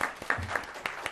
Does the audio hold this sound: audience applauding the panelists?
yes